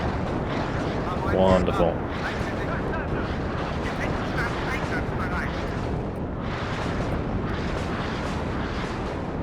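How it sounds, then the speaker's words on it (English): Continuous rumbling artillery strike explosions from the WARNO real-time strategy game, heavy booming blasts rolling together into a dense, loud barrage, with a voice speaking briefly over them. "Constant artillery strike."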